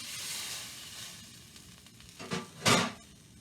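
Soft hissing and gentle sizzling from a pan of simmering sauce with added water for zrazy rolled beef, with a couple of brief louder bubbling bursts near the end.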